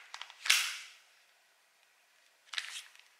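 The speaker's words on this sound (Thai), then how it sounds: "จับแม็กก็ดึงออกมาแล้วก็ใส่" An airsoft Glock 18c pistol magazine is pulled out and pushed back in, producing two close, sharp plastic-and-metal clacks about two seconds apart, the first louder with a short rattle before it.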